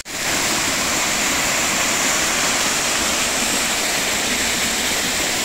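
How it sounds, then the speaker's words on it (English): A rainforest waterfall in Springbrook National Park, Australia, pours down into a creek with a continuous loud, broadband roar of rushing water, close and unbroken throughout. "Another waterfall coming down through here."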